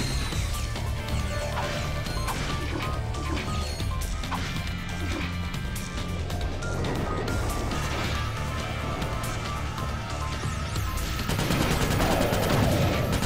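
Magma cannon weapon firing in Ratchet: Deadlocked, a dense, continuous barrage of loud blasts, crashes and impacts layered with game music and effects, with a heavier burst near the end.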